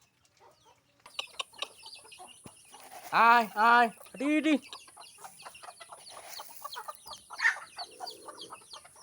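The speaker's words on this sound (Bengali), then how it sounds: "তো এখন দেবো মুরগিগুলো খাবার।" Farmyard chickens cluck and peck while being fed, with short clucks scattered through the scene; a person calls out to the birds in a loud, drawn-out voice partway through.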